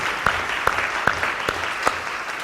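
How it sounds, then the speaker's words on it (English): Applause from a church congregation celebrating a newborn member, a steady moderate wash of clapping with a few sharper claps standing out. "let's give them a round of applause"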